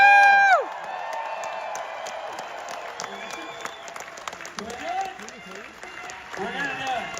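A CinemaCon audience cheers and applauds, with a sustained wash of clapping and whoops filling a large hall while people talk over it.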